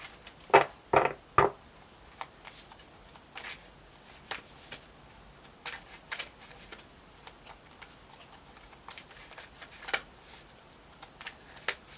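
Tarot cards are shuffled and handled quietly, with a quick cluster of soft riffling snaps followed by scattered faint taps and flicks.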